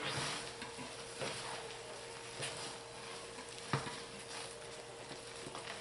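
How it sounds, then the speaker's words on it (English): Hot process pine tar lye soap with lard soap cubes being stirred in a crockpot: a continuous soft sizzling, bubbling texture with faint scraping and occasional small clunks of the spoon, close by and quiet, with no speech. "So I'm going to Stir it up, stir it really well."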